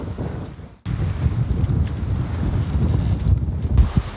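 Gusting wind while sailing with a reefed genoa, loud buffeting wind across the microphone with rushing water beneath, briefly dropping away, then surging back in strong uneven gusts.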